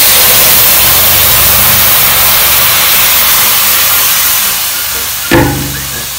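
Roasted vermicelli hisses steadily in a hot pan, then a sudden brief surge of sizzling rises near the end as milk is poured in. No voices.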